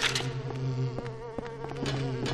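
A fly buzzes close and loud in Silent Hill 4, its whining drone wavering continuously over a low, sustained tonal hum.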